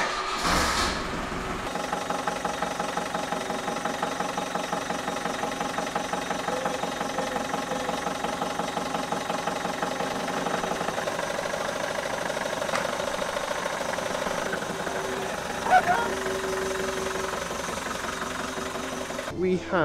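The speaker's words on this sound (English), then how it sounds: "This thing is completely floating above the transit, so we're now going to drive the van out." Ford Transit van engine running steadily as the van is driven out from under a raised Luton box, a continuous rhythmic mid-pitched diesel-like chug throughout with a brief louder knock near the end.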